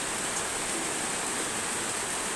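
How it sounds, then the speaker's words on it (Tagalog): Rain falls outside during flooding as a steady, even hiss with no talking, unchanging in level throughout. "Yung ulan at saka baha."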